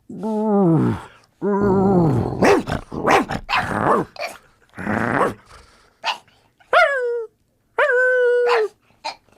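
A dog barks and growls nearby in loud, uneven bursts, with higher whining yelps mixed in and short pauses between them.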